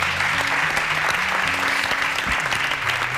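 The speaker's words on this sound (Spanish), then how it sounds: "un gran aplauso a Felipe." Sustained audience applause for a man being honored, a steady wash of clapping from a crowd with a faint low hum underneath.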